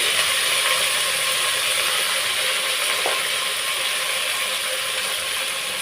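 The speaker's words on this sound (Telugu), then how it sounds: "ఆవాలు ఇలా చిట్టుపట్లాడుతున్నప్పుడే మనం నీట్గా వాష్ చేసి పెట్టుకున్న తోటకూరను మొత్తం ఇందులో వేసేసుకోవాలి" Mustard seeds splutter in hot oil as amaranth leaves go into the pan, giving a steady, dense crackling hiss at close range with no voices.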